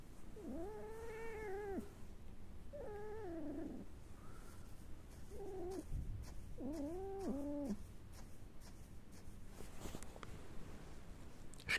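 A cat grumbles and moans in a series of drawn-out, wavering complaints, close and fairly quiet, with short pauses between them.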